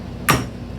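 A small hammer strikes a piece of glass in one sharp, close smack with a brief crunching burst over a steady background hum.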